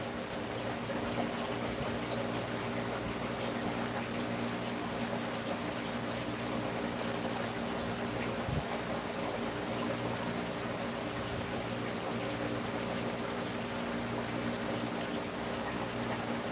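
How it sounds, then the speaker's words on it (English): Steady, continuous water trickle and low pump hum from a fish tank pump and filter being tested, running evenly throughout at moderate level with no talk. "If you can hear water in the back"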